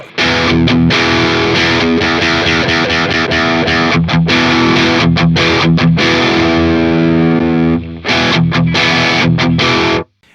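Distorted electric guitar through a Friedman BE/BB tube preamp and Synergy Syn20IR plays loud, sustained chords with brief pauses, a thick amp tone with slightly too much top end filling the space, no voices.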